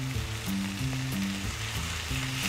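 A steak searing in a hot pan, a continuous loud sizzle with dense crackling that stays steady throughout, heard alone with no talk.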